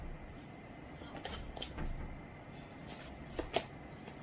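Tarot cards being shuffled and handled nearby, with soft riffling and several crisp card snaps over a quiet background.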